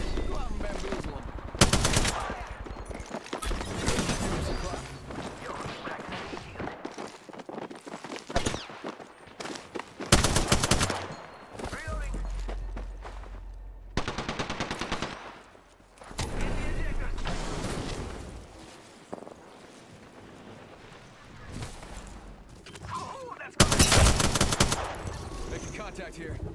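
Rapid bursts of automatic gunfire from Apex Legends, played as Mirage, fire in repeated volleys with loud sharp shots separated by brief pauses, while a character voice talks over parts of the fighting.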